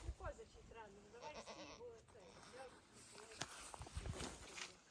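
Several goats bleat in short wavering calls, close by, while people talk and footsteps shuffle around them.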